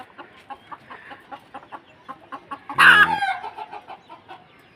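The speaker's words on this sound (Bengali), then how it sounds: "এটা কিন্তু খুবই ইউনিক মুরগি" A chicken clucks in a quick, steady rhythm, then lets out one loud squawk, close by.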